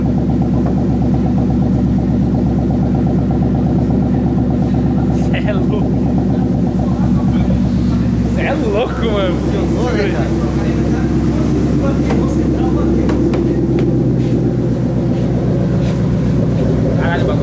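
A Ford Mustang engine idles and runs steadily after being revived, a loud continuous rumble with excited voices talking over it.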